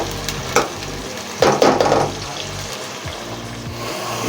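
Onions fry in a pan with a steady close sizzle, broken by bursts of louder crackling and scraping stir strokes, without talk.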